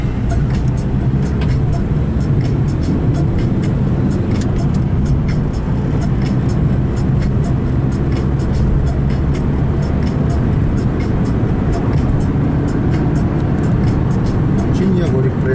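A car cruises along a Russian road with a constant loud engine and tyre rumble filling the cabin, steady and unbroken, with people talking inside.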